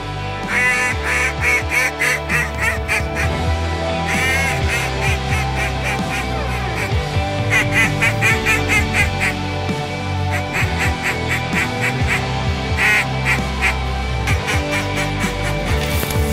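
A big flock of ducks quacks loudly and continuously during a waterfowl hunt, with geese honking among them. The calls are dense and overlapping, close and far at once, with no gaps.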